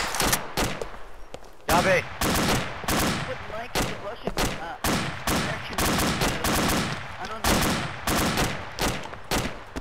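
Heavy gunfire in an Arma military shooter session, with repeated rapid bursts and sharp single shots crackling loudly throughout, a radio voice briefly talking amid the shooting.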